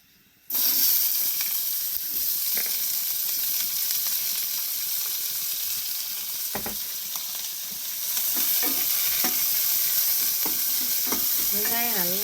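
Onions, green chillies and curry leaves fry in a pan with a loud, steady sizzle that starts abruptly and runs throughout, broken by occasional stirring knocks and scrapes, with no talk.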